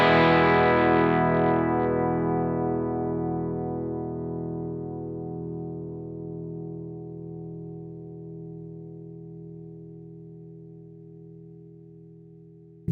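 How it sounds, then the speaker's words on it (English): A single distorted chord on a Nik Huber Krautster II electric guitar struck once and left to ring, sustaining for a long time and fading only slowly. "Play a chord and just hold the chord."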